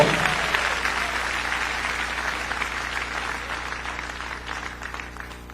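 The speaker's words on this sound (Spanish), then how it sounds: "Dele fuerte ese aplauso al Señor." A church congregation breaks into loud applause, many hands clapping densely at first and then gradually thinning and fading over several seconds.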